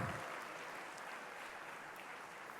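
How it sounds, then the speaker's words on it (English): Steady, distant applause from a large audience in a college hall filling the whole stretch at an even level, with no voices on top. "Please give a big clap"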